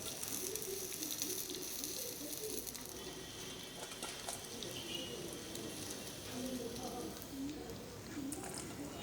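Chicken 65 pieces deep-frying in hot oil, with curry leaves added near the end of cooking, give a steady, fairly soft crackling sizzle that runs unbroken throughout.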